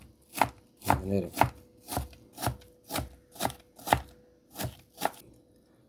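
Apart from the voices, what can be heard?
chopping an apple with a knife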